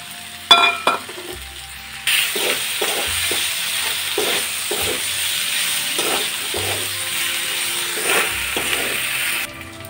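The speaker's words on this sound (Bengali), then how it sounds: "মশলাটা একটু কষিয়ে নেব।" Spice paste sizzles and fries in a hot pan for an okra dish, with a steady crackle broken by repeated scraping strokes of a spatula, close and fairly loud, and no talking.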